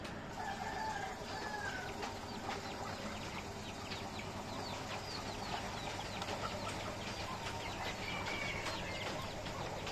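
Chickens cluck and cackle intermittently in an enclosure in Thailand, faint and somewhat distant over a steady ambient hum, with scattered soft calls throughout.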